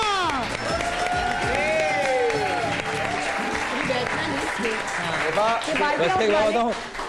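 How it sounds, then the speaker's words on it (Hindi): Studio audience of a Pakistani morning TV show applauds amid cheering and lively voices, clapping running continuously underneath overlapping talk and musical tones. "तालियां।"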